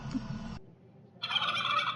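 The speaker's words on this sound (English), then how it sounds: "turkeys." Turkeys gobbling close by: a short burst of rapid gobbling, a brief quiet pause, then a louder, brighter gobble call.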